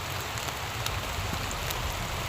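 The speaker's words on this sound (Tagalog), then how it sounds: "pero ang lakas na ng ulan" Heavy rain falls as a constant, close hiss with scattered sharper drop ticks and patters on surfaces, even and unbroken throughout, with no voices.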